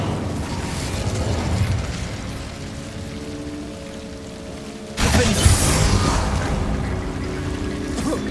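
Incendio fire spell cast in Hogwarts Legacy, a loud sudden fiery burst with a rushing roar after a stretch of low rumbling game ambience.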